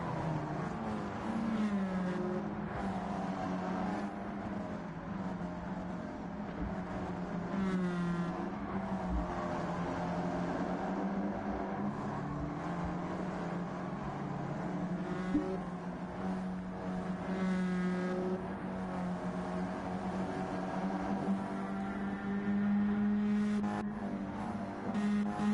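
Stock cars in a NASCAR-style racing video game roar continuously at a sustained engine drone, with pitch wavering as the pack races on, no voices over it.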